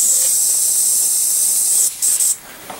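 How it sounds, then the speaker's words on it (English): Steady high-pitched hiss of a spray gun continuously spraying topcoat, then cutting off briefly in short bursts near the end before stopping. "I'm going to show you some spraying"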